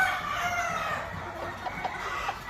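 Gamefowl roosters and hens in breeding pens at a game farm, with clucking and crowing from several birds under a steady outdoor hiss.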